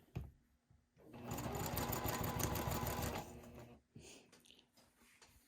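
A sewing machine stitches long fabric strips into a quarter-inch seam, whirring steadily for about two seconds at moderate volume, with brief quieter handling sounds before and after.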